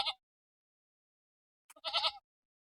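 A goat bleats in two separate bursts, a short cry at the start and a longer wavering one after a silent pause, fairly close and alone without talk.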